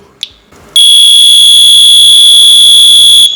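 A piercing, high-pitched Nitecore NWE10 electronic whistle rated at 126 dB blares continuously for a few seconds after a brief click, very loud and steady, then cuts off abruptly.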